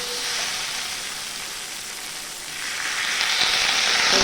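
Soybean chunks sizzling and frying with spices in a pan over a high gas flame, a steady loud hiss that swells louder toward the end, with no talking.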